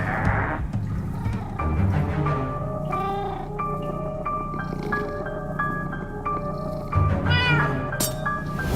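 A cat meows repeatedly in Minecraft: Story Mode, a run of fairly loud, clear mews over steady game music and background ambience.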